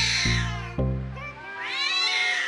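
Two cats meow loudly and close by in several overlapping, drawn-out calls, the first ones low and strained and the later ones higher and whining, with no talking.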